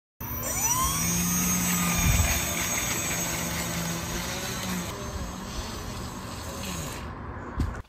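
An RC gyrocopter's electric motor and spinning rotor whir and whine steadily during a taxi test on grass, a loud, sustained hum with rising tones that cuts off abruptly near the end.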